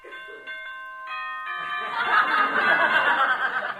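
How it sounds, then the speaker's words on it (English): A boxing ring bell rings for the first round, a bright metallic clang with ringing overtones, followed by a rising crowd and laughter swelling underneath. "Here's the bell for the first round."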